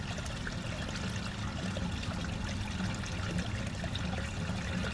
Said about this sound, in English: as it reaches a certain level, it'll pump the water right out.